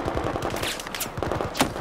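A light machine gun fires in Battlefield 4, fast rattling bursts of closely spaced shots with a few louder cracks mixed in. The gunfire is loud and close and runs continuously, with no talk.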